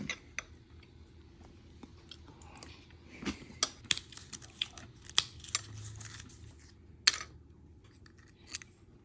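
Thin artisan rosemary crackers are crunched up close, with sharp irregular crisp snaps and bites scattered over several seconds against quiet background, with no talking.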